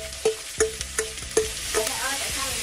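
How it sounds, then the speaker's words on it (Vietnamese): Corn and shrimp are stir-fried with golden onions in a pan, a utensil scraping and tapping in a regular rhythm of about five strokes over a soft, steady sizzle, close up with no talk. "Khi hành vàng, giả vàng chúng ta sẽ đổ ngô và tôm vào."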